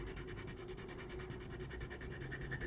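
A yellow colored pencil pressed hard against paper while shading, making a faint, steady, rapid scratchy rubbing with a quick back-and-forth rhythm and no voices.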